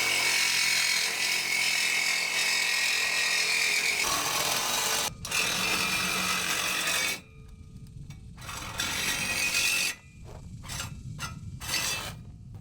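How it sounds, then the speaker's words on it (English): An old Ryobi Sawzall reciprocating saw cuts through a metal smoke stack for a Cummins dually pickup, giving a loud continuous buzzing rasp that stops and restarts several times in short bursts, with no talking. "Found ourselves my dad's old Ryobi Sawzall, which is almost gonna be thick enough to cut through."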